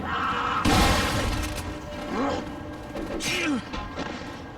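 Two or three heavy shotgun blasts in Resident Evil 4 gameplay, the first a sharp crash near the start, later ones spaced a second or so apart, mixed with thuds, groans and game effects.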